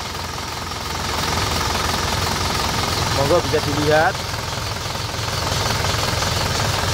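An Isuzu Panther LV 2.5 diesel engine from 2001 idles steadily with the hood open, a constant low rumble and knock, while a person speaks briefly over it partway through.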